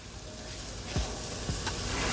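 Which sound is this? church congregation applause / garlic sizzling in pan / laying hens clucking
garlic sizzling in pan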